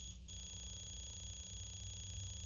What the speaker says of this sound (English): could you ask somebody to please turn off that alarm?